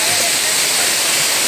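Steady broadband rush of Boddugudem waterfall, its flow thinned to a reduced trickle after a dry year, close and continuous with a constant hiss filling the space.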